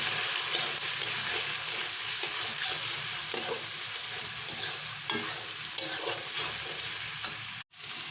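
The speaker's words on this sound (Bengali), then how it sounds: "অল্প পরিমাণে হচ্ছে হলুদ গুঁড়ো, লঙ্কা গুঁড়ো, মশলাগুলো সুন্দর করে একটু কষিয়ে নেব।" Turmeric, chili powder and spices sautéing in a hot pan for biryani, a loud continuous sizzle with stirring scrapes throughout, close up, briefly cutting out near the end.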